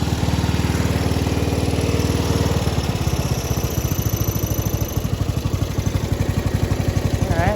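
A 1995 Craftsman LT4000 lawn tractor engine idles close by, a steady, even rapid putter that runs unbroken and fairly loud, with a slight shift in rhythm partway through.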